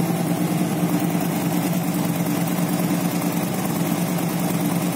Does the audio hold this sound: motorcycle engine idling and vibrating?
yes